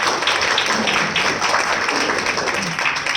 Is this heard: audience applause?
yes